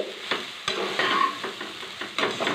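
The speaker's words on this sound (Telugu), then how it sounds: "ఒక గిన్నెడు అన్నం వేసుకుంటున్నానండి. శుభ్రంగా కలుపుకోవాలి." A spoon scrapes and stirs through cooked rice in a pan, with soft sizzling underneath and a few sharper scraping strokes, close and steady.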